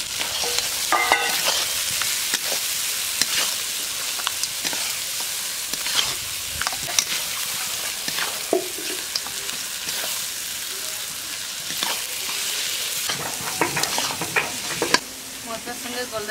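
Golda prawns frying with spice paste, a bright steady sizzle broken by frequent spatula scrapes and taps, close and fairly loud, lasting throughout.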